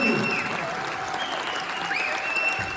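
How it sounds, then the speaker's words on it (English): A large crowd at a New York justice event breaks into loud, sustained applause and cheering, dense clapping with a few whoops filling the whole stretch. "please give a massive round of applause"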